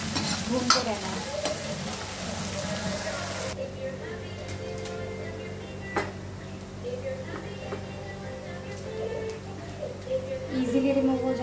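Soya chaap gravy masala being stirred and roasted in a pan, with a steady sizzle and scraping of the spoon running throughout, louder in the first few seconds and then settling to a softer frying hiss.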